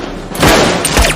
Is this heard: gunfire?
yes